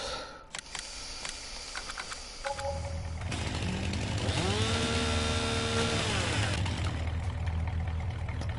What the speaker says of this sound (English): Buy a chainsaw.